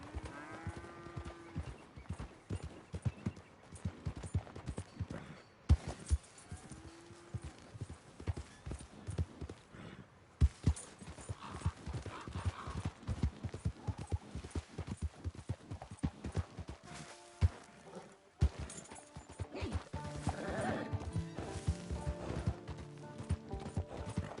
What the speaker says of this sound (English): So this is the horse that Marston gets given.